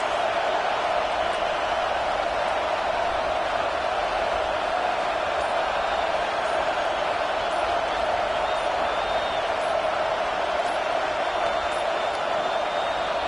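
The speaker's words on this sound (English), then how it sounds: "listen to this crowd noise. This stadium is vibrating." Steady, dense roar of a packed stadium crowd at a college football game in College Football 25, a continuous wash of noise with no breaks that fills the whole stretch.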